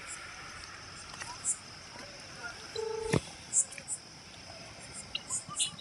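A phone being dialed to call someone: a few short touch-tone beeps sound at close range, one longer tone in the middle, over faint background noise and murmuring voices.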